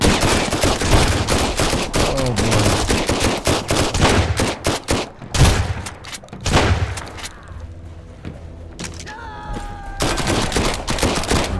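Dense bursts of rapid gunfire from Sunkenland, a survival video game, crackle almost continuously and loudly for most of the stretch, with a brief lull before heavy volleys return.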